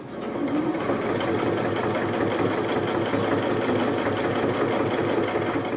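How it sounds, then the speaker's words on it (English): Sewing machine running steadily while stitching a straight line across a jeans hem, a continuous close mechanical whir with a rapid needle rhythm throughout. "you just stitch a straight line right across that"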